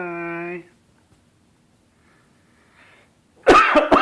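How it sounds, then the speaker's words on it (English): An adult man gives a brief throaty double cough, loud and close, near the end of a mostly quiet moment that opens with a short, tonal baby vocalization. "You don't like it when Daddy coughs, huh?"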